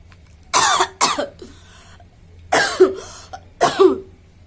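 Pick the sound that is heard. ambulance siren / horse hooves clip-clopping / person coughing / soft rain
person coughing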